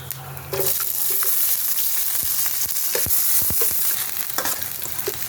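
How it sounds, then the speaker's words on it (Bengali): Onions dropped into hot oil with chilli, bay leaf and five-spice, bursting into a loud, steady sizzle with occasional stirring clicks, close and continuous after a brief quieter start. "আমি এখন এই পেঁয়াজগুলো দিয়ে দেবো।"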